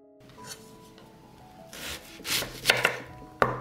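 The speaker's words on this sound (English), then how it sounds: "I will cut 1 onion and 2 sticks of celery." A kitchen knife cuts through an onion and celery stalks on a board, giving soft rubbing scrapes that build into a few louder, crisp chops near the end, close and alone with no talking.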